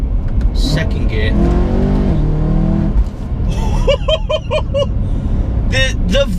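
A supercharged 625 bhp BMW E92 M3 engine pulls hard in second gear, a loud, rising rasp broken by a shift-like pause, with a voice talking over it near the start.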